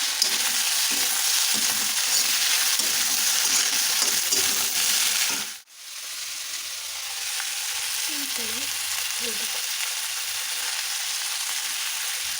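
Khichdi ingredients frying in hot oil in a pot on a home stove, a steady sizzle throughout with a brief drop midway and faint stirring clinks afterward.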